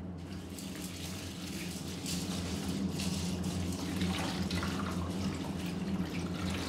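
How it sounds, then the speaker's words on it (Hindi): Running tap water splashes steadily into a bowl while mixed lentils are washed in it, a continuous close gush with faint dripping and swirling. "इनको हमने तीन से चार दफ़ा अच्छी तरह पानी से धो लेना है।"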